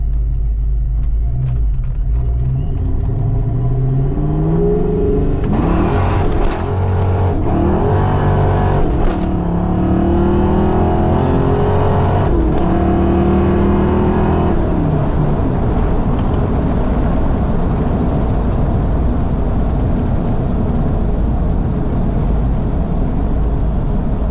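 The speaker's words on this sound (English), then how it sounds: "Second gear was on the rev limiter, so we had to short shift it and go to third" A Fox-body car's Vortech-supercharged engine at 11 psi roars close by, revs climbing hard up to the limiter in second gear before settling into a loud, steady droning rumble.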